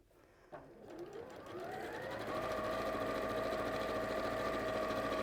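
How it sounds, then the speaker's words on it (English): Sewing machine starting up and running fast to stitch a hem on a satchel pocket, its whirring motor climbing in pitch then holding a steady, close, continuous hum. "So I'll just sew that together."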